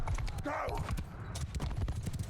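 Galloping horse hooves in the medieval battle game Mount & Blade II: Bannerlord, a quick repeated clatter close by, with a voice speaking over the hoofbeats and a short burst of other game noise.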